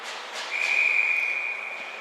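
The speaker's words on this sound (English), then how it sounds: "And we'll have another whistle for a hand pass." A referee's whistle at a boys' ice hockey game gives one steady, fairly loud shrill blast lasting about a second over the hum of the rink.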